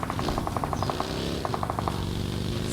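Rapid bursts of automatic gunfire in PUBG Mobile, two volleys of evenly spaced shots over a steady background of game noise and music.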